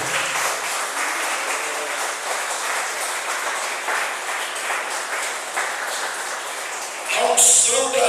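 A church congregation bursts into sustained applause, steady dense clapping filling the space, with a brighter louder swell near the end.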